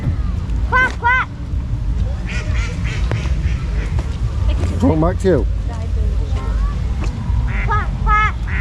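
Ducks quacking at a rain-soaked cheese festival fairground, several short quack bursts spread through the clip under steady rain noise and frequent nearby talking.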